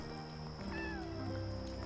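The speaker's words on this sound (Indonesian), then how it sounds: "Ih, aku dengar bunyi kucing." A cat meows once in the video game Yonder: The Cloud Catcher Chronicles, a short rising-falling call set against steady game music and ambience. No one speaks over it.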